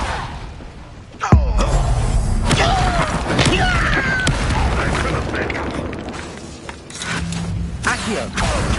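Depulso spell cast in the video game Hogwarts Legacy, heard amid a chaotic duel: a sharp booming impact followed by rumbling blasts, thuds and whooshing spell effects, with other spells and combat sounds layered throughout.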